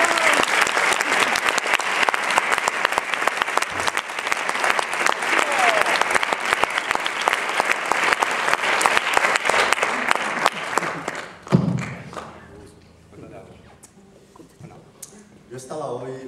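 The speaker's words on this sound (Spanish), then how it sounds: "un fuerte aplauso para Pedro Andrés." An audience claps loudly and steadily for about eleven seconds, then the applause cuts off and quieter room sounds follow.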